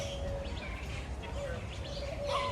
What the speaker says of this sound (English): These birds are crazy town in here today.